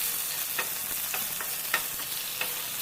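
Green chilli and curry leaves frying in hot oil while being stirred, a steady close sizzle broken by a few sharp spoon scrapes and clicks against the pan.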